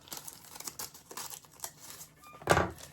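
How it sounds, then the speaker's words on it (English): Scissors snip at the sealed corner of a mail package amid steady crinkling of paper or plastic packaging, ending in one louder crunch, close and quiet with no talking. "I will use a pair of scissors to get this corner"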